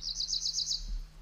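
Spring migratory birds in a deciduous woodland give a quick run of about six bright, high chirps in steady rhythm, close and clear over a low, constant hum.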